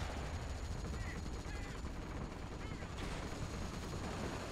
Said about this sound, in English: I'll shoot this Grenadier squad first from the American 172nd.